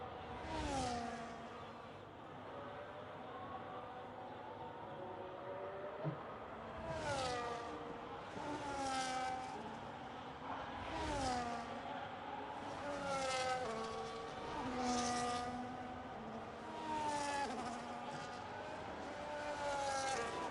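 Simulated F1 cars racing in an F1 video game at the Azerbaijan circuit, high-pitched engines rising and falling as cars repeatedly pass by, a fairly quiet recurring whine with no talk.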